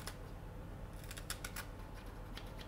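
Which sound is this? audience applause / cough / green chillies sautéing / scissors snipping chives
scissors snipping chives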